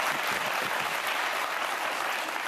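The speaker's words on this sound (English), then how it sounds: "I'm clapping that." Studio audience of a daytime talk show applauds, a short, dense, even burst of clapping with no voices over it.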